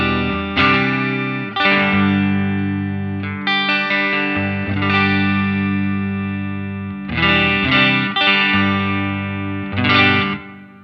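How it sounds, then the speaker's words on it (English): An electric guitar played through a Line 6 Helix amp and stock cab model with bright reverb strums sustained chords and single notes, each ringing out and decaying before the next strike, with no voices. "I've set it up with the stock cab to give me a clean sound. It sounds like this."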